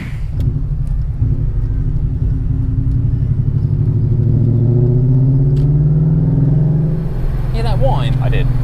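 Supercharged S62 V8 in a BMW E39 M5 on the road, a steady engine drone with a rising tonal whine building over several seconds, continuous and fairly loud, with people talking over it.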